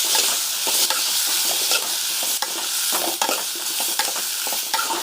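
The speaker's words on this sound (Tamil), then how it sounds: "தக்காளி எல்லாம் வதங்கிடுது" Tomatoes for chutney sizzle and crackle in a hot pan while a utensil stirs and scrapes at intervals, close and steady with no voices.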